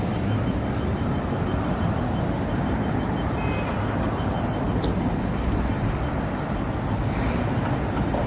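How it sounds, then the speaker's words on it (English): Busy New York City street traffic at night along 5th Avenue makes a steady, loud wash of engines and road rumble, with faint high tones briefly rising above it. "The sounds of NYC is sirens and horns."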